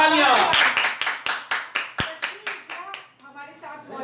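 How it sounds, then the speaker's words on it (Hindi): A studio audience claps in a quick, even rhythm on a television game show after a contestant answers correctly, the sharp claps close and loud while a voice speaks briefly near the end. "तालियां।"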